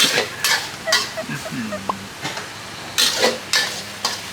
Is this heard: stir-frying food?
yes